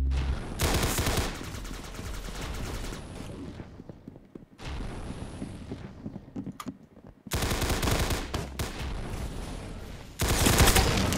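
Automatic gunfire in a Roblox zombie shooter, long loud sustained bursts of rapid shots broken by brief pauses and a few quieter gaps between volleys.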